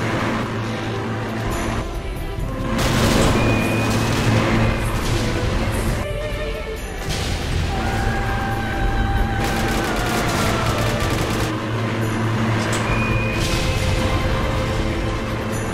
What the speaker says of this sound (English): One by one, the Bulgarian tanks fell victim to American bombs.